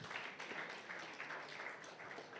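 An audience claps at an official book launch: a soft, steady patter of many hands that sounds fairly distant and holds evenly through the short stretch.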